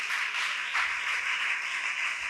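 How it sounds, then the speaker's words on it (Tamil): A church congregation claps hands together in a dense, steady wash of applause that holds at an even level throughout, with no voices over it. "விசுவாசிக்கிறவங்க நல்லா கையை தட்டி ஆரவாரம் பண்ணு."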